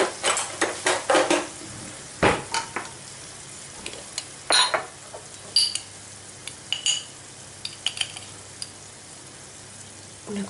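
A utensil stirs tomato sofrito with smoked paprika in a pan off the heat, giving irregular scraping clacks and brief sizzles in close, sharp bursts with quieter gaps between.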